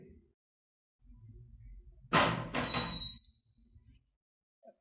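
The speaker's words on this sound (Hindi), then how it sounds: "दरवाजे की आवाज़ आ रही, मेरा ख्याल वो लोग आ गए" A door opening indoors, with a quiet rustle first and then a loud, close creak and clatter lasting about a second, ending on a brief squeak before things go quiet again.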